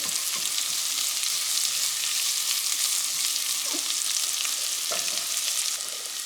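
Onions sautéing in bacon grease make a steady, loud, close sizzle that runs the whole time, with a few faint scrapes and taps of a utensil and no one speaking.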